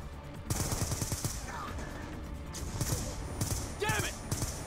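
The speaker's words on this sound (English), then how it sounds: "Damn it! Return fire!" Gunfire rattles in a Call of Duty: Black Ops 2 battle, with repeated bursts of automatic shots and single cracks over game noise and occasional voices.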